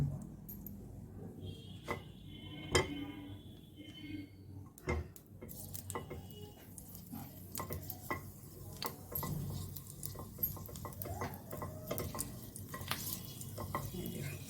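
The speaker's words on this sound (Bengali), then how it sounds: "অল্প একটু ঘি দিয়ে কাজু কিশমিশটা নেড়ে" Cashews and raisins are stirred in a little ghee in a pan, with soft scraping and stirring clicks and a low sizzle running steadily underneath, near and moderately quiet.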